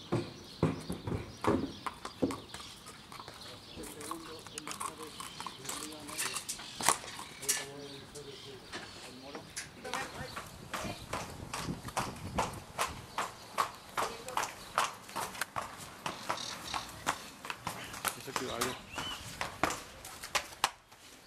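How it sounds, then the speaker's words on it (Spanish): Horses' hooves clip-clop at the Flores racetrack as horses are brought in, a steady run of sharp close hoofbeats continuing throughout, with some faint background voices. "Acaba de llegar con los caballos de Lara, Carby, Libanés."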